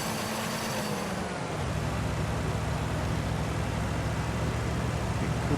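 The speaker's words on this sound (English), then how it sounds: "you can see there how it wants to go, it starts valve bouncing, and then as soon as you stick it in the next gear" UAZ 2315 engine revving hard with valve bounce before a gear change, a loud steady drone that drops in pitch after the first second and carries on unbroken.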